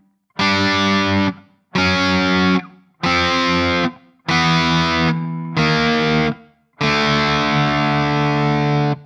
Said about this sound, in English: Now we have our 2-string power chords, which sound really great